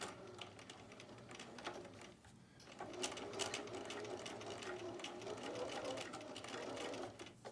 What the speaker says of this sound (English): I'm going to start off with a back stitch.